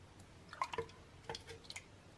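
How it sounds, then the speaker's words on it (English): Cream poured from a measuring cup into a saucepan, giving faint, close little drips and splashing trickles in a few brief bursts over a quiet background. "get out a saucepan and into that measure and pour out a whole cup of cream"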